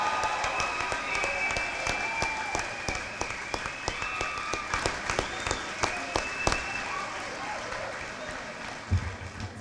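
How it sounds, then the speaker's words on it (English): At a Pioneer senior celebration, the crowd gives the class of 2022 a round of applause, with scattered distinct claps and cheering over a busy room, some talk mixed in. "can we have one round of applause for the class of"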